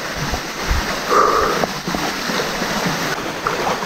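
Steady rushing water from a waterfall stream in Bohol, Philippines flows close by, a continuous broadband wash with no voices.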